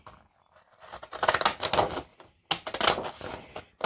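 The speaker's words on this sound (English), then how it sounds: "I am going to use my scissors" Scissors snip and crunch through paper in two quick bursts of close, crisp cutting, separated by a brief pause.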